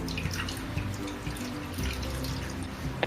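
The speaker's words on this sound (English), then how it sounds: "Okay, some more of the water to clean." Water is poured over henna to rinse it, giving a continuous splashing trickle with scattered drips, close and fairly loud throughout.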